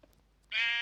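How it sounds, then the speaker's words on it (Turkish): A sheep bleats once in a survival video game, a sudden loud, wavering bleat that starts after a near-silent moment and carries to the end. "Şurada koyun var ona."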